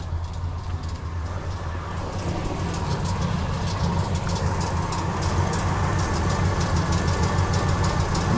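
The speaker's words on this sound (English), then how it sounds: "We're going to fire up the engine for just a short bit because there's no coolant." A Ford Super Duty truck engine, run without coolant, idles in a steady low rumble with faint ticking layered on top, continuous and close, with no talk.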